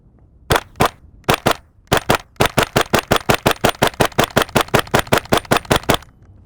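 A KRISS Vector Gen 2 fires a full magazine downrange outdoors, a few spaced single shots followed by a long, fast, evenly paced string of sharp, loud reports ending abruptly.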